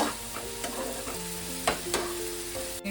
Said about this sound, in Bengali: আমি প্রথমে আমার বাটা মশলাটা দিয়ে দিলাম। মশলাটাকে আমি একটু ভালো করে কষিয়ে নেব।